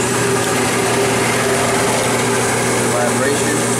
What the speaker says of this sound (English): The blower's working.